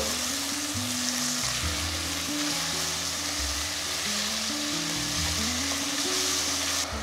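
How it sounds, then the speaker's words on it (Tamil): Plenty of onions sautéing in a pan for a veg parotta salna, with green chillies and curry leaves nearby, make a loud, continuous close frying sizzle under a low steady tonal hum, with no talk. "ஸோ வெங்காயம் ஒரு நல்ல கோல்டன் கலர் வர வரைக்கும் கொஞ்சம் அதை வதக்கணும்"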